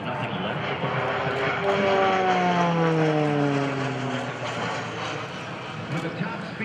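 T-6C Texan II turboprop trainer flying a demonstration at an airshow, its engine drone loud and continuous, with a falling pitch sweep as it passes and climbs, under a commentator's voice.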